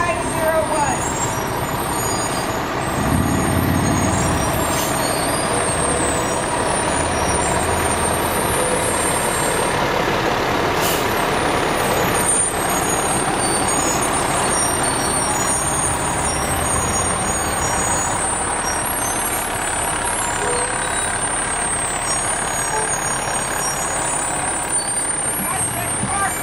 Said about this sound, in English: The Hampton Fire Department, truck number